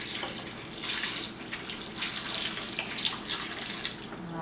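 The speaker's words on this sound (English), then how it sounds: "now we're gonna add a cup of cold water on top of the boiling water." A cup of cold water poured on top of boiling water in a bowl while making jello; a loud, close, steady splashing pour with rising and falling surges over several seconds, no talk.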